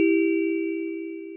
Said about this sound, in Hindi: घर की घंटी बज